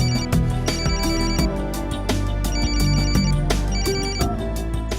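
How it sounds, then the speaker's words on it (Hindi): An incoming call's telephone ringtone chimes in a repeating melodic pattern, loud and steady throughout, over a dramatic backing score with no talking. "किसी का फोन आया उसे"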